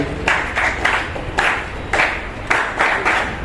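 Bursts of clapping from an audience welcoming a guest at a school teachers' gathering, several short waves of applause close together, fairly loud, with no talk over them.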